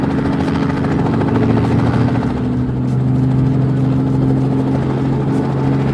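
A loud, continuous helicopter rotor and engine drone runs steadily throughout during toy vehicle play, close and dominant with no speech over it.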